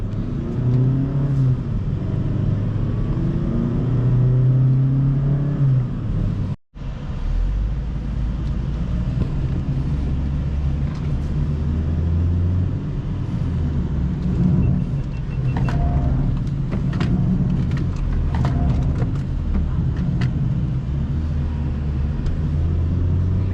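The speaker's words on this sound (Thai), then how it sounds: "อัตราเร่ง 0 ถึง 100 กิโลเมตรต่อชั่วโมงอ่ะเดี๋ยวเราไป พร้อมๆกันเลย" A 2023 Mazda2 1.3 SP sedan accelerating from 0 to 100 km/h, its engine droning and rising in pitch through several gear changes, heard from inside the cabin as a steady loud hum with no talking.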